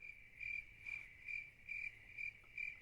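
A cricket chirps alone as a comedic sound effect, giving six or seven evenly spaced shrill pulses against near silence.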